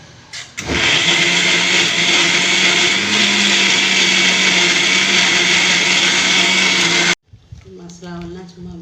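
A mixer grinder coarsely grinds onion with masala in a loud, steady whirring roar that starts abruptly and cuts off after several seconds, after which a voice talks.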